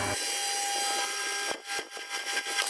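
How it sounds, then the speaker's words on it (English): A lathe cutting round steel tube stock to length, a continuous close metallic scraping whine with short rhythmic breaks and grinding pulses in the second half. "To cut this round tube metal, I use a lathe to cut it."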